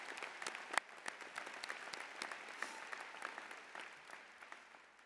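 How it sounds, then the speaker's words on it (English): Audience applause at a spring convocation ceremony: a dense, even patter of many hands clapping, fairly distant and soft, with one sharper clap standing out early and the sound easing slightly toward the end. "You can applaud yourselves."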